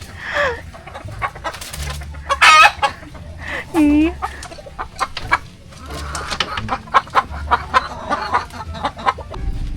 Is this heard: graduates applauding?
no